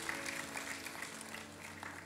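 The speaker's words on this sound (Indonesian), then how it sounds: "Tepuk tangan buat semuanya yang melakukan ini." Applause from a church congregation, a fairly quiet, diffuse patter of many hands beneath a sustained musical drone, steady throughout.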